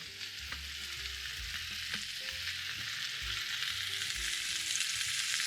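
Beef shin for osso buco browning in a hot pan, a steady close sizzle with light crackling and a few soft knocks from handling the meat.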